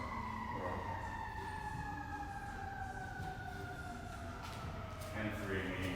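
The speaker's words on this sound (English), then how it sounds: "Those sirens are not for us." A fire truck siren wails outside, long sweeping tones gliding slowly downward as it passes at moderate distance, with faint room noise and a brief louder burst near the end.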